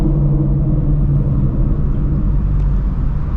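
Shelby GT350 Mustang engine roaring steadily through downshifts with no rev matching, a loud, dense, continuous low rumble filling the whole stretch without pause.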